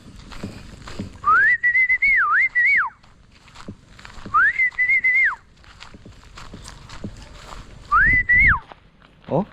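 A person whistles to call birds outdoors on a farm during field irrigation, three repeated warbling, rising-and-falling whistled phrases of about a second and a half each, with brief pauses and light background rustling between them.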